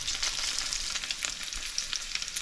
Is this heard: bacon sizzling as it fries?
yes